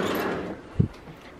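Top drawer of a makeup storage unit sliding shut, a soft rolling slide ending in a single muffled thump nearby.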